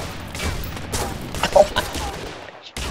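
Rapid video game gunfire, a scattered string of sharp close shots crackling over a few seconds, with a sudden cut to quiet near the end.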